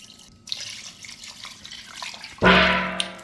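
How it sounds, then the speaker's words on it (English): Water is poured into a cooking pot to cover a pigtail for barbecue jerk pigtail, starting as a soft trickle and then turning into a loud, close, steady gush in the last second. "we are going to add some water, and you want to cover your pigtail with the water"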